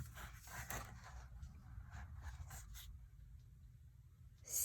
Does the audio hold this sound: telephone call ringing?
no